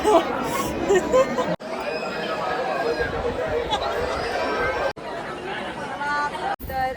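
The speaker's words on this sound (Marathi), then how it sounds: "गर्दी खूप आहे" Dense crowd babble of many overlapping voices at the Jejuri temple in Maharashtra, steady and close around the listener, with a few brief cuts where the noise drops out.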